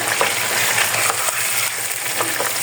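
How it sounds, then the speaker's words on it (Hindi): Fried chicken stirred into a sizzling onion and green chili paste in a karahi: a loud, close, continuous frying hiss with soft scraping from the stirring. "अब मैं इसमें शामिल करूँगी फ्राई किया हुआ चिकन। इसको हम इसमें अच्छी तरह मिक्स कर लेंगे।"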